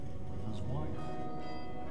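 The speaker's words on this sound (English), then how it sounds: "Oh, it has bells ringing." Bells ring in the co-op video game We Were Here, a brief resonant chime set against a low droning background.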